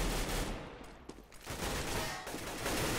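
Sustained rifle spray fire from a Galil in a competitive Counter-Strike-style FACEIT match, a dense continuous burst of shots that briefly dips and then resumes, loud and steady with no voices.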